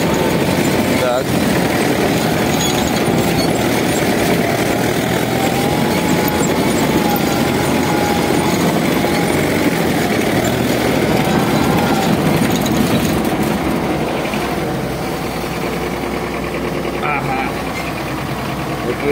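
A DT-75 crawler tractor engine idles loud and close while the oil pump pressure is checked, a steady rumbling throb that holds with little change for the whole stretch.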